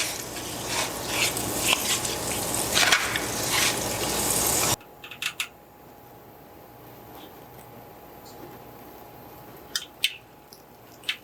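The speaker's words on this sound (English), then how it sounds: "We're ready to butter up our pan. And just enough butter to coat the pan." Butter sizzling in a heated frying pan on medium-low heat while making French toast, a dense crackling hiss at first that drops suddenly to a quiet simmer with a few faint pops and clicks.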